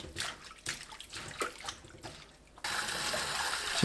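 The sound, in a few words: water, washing cabbage soaked in vinegar water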